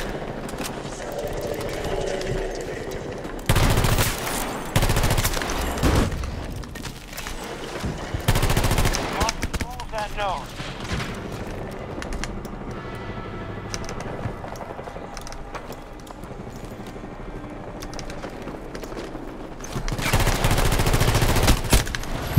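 Bursts of automatic gunfire in a multiplayer shooter video game, loud rapid volleys around the start, middle and end with quieter game noise between.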